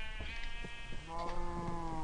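Sheep in the video game Minecraft bleat in a couple of short, nasal, wavering calls, fairly close, over a steady background hum.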